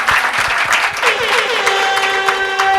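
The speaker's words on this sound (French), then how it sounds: "Applaudissez pour mes invités s'il vous plaît." Studio audience on a TV show claps in a loud, dense burst, with cheering voices and a sustained tone emerging partway through.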